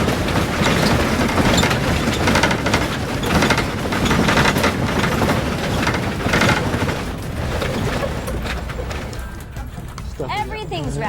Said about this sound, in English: Everything's rattling.